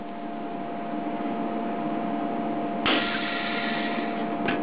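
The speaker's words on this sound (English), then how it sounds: "It just releases vacuum on the canister" A vacuum sealer machine hums steadily while drawing vacuum on a canister, then a sudden hiss of air rushes in as the vacuum is released, followed by a short second burst.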